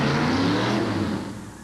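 A monster truck engine roars loudly and steadily in an indoor arena, a dense throbbing rumble that eases slightly toward the end.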